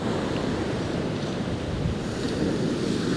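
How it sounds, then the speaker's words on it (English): Big, fierce sea waves crash and roar continuously at Happisburgh beach, a dense broadband wash of surf with wind buffeting the microphone throughout, loud and steady with no voices. "you can see how big these waves are"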